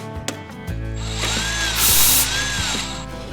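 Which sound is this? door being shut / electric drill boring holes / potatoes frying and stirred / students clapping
electric drill boring holes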